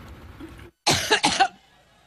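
Someone coughing during a campaign appearance, a quick burst of two or three harsh, close coughs after a moment of quiet, with a brief throat-clearing quality.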